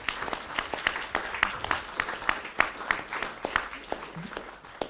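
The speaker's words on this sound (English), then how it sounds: "we would like to ask for the applause for all panelists" Conference audience claps for a panel of speakers, a fairly small room's worth of irregular hand claps at moderate level, evenly spread over several seconds.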